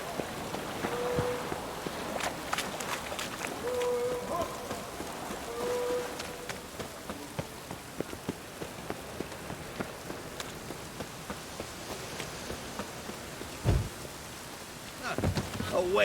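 Rain falls steadily in the video game The Witcher 3, a constant close hiss of drops broken by occasional sharper splashes and soft thuds.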